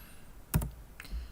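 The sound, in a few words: typing the DP keyboard shortcut on a computer keyboard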